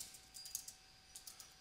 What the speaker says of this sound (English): Let me type it real quick.